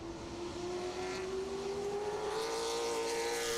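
Chevrolet Camaro limited late model race car lapping a track during qualifying, its engine droning loud and close in a steady, slowly rising pitch with no talk over it.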